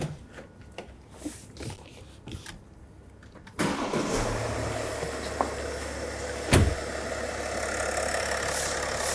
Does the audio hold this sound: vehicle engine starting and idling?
yes